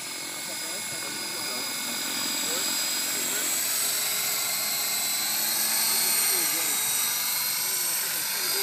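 A Trex 550E radio-controlled helicopter flies with its rotor spinning, giving a steady high-pitched whine and buzz that swells slightly. The sound is close and continuous, with faint voices talking underneath.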